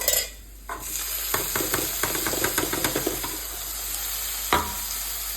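Tomatoes tipped into a hot pan of browned ingredients for pasta, giving a steady close sizzle with repeated scraping stir strokes and a sharp clink of utensil against pan near the end.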